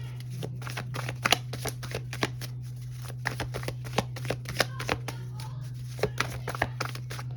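Rapid crisp riffling and snapping of tarot cards being shuffled, a run of sharp slaps close by over a steady low hum.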